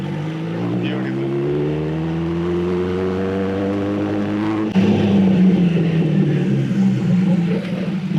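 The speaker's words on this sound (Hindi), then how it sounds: "इन बाइकों में ना डी एक्सेलरेशन का जो साउंड होता है ना, वो बहुत ही मजा दिला देता है।" Kawasaki ZX10R motorcycle with an SC Project full exhaust winds down in a steady falling engine note, then a louder, rougher burst of exhaust sound takes over near the end, close and continuous.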